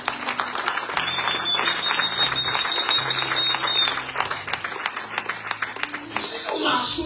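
A church congregation claps and cheers in praise of the Lord, producing steady dense applause throughout with a voice and some tonal backing sound running underneath.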